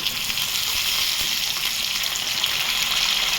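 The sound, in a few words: peas added to frying cauliflower in pan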